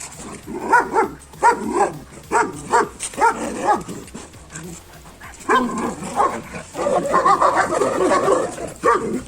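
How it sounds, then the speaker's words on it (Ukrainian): A dog barks repeatedly during a training session, loud and close, in bursts of sharp barks and yips with short pauses, and a person's voice is heard alongside. "ти на кого гавкаєш, так?"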